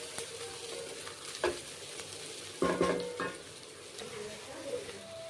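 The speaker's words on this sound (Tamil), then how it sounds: "நல்லா இதை வதக்கிக்கலாம்." Onions sauté in a pan for biryani with a continuous sizzle, broken by several louder scraping stirs of a utensil against the pan.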